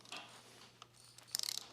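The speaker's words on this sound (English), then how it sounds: "8mm Allen on an extension." A ratchet turns an 8mm Allen socket on an extension while a turbo kit is fitted to a 2011-2016 Ford F-150 3.5L EcoBoost, a few faint clicks followed by a quick burst of rapid ratcheting clicks.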